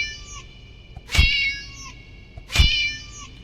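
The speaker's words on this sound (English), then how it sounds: "Well, we're dealing with a furry cat doll that meows and is very cold." A furry cat doll meows twice in the video game Play Things, two clear, close meows evenly spaced about a second and a half apart over a faint background hum.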